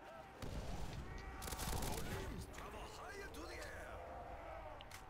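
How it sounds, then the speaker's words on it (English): Explosions and bursts of gunfire in a custom zombies first-person shooter crash repeatedly in a dense, chaotic stretch, heaviest in the first half, with someone talking over the game audio. "Unnecessary explosions."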